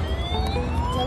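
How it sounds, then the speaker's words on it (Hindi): Electronic siren of a battery-powered toy car playing beside a swimming pool, a brief wavering wail repeated over quiet background noise. "इसकी साइरन भी है."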